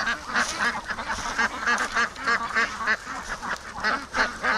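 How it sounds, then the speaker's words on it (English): Several ducks quack close by at a lake, a busy overlapping chorus of raspy calls in quick, uneven bursts that continues steadily with no pause. "The ducks don't want to go out."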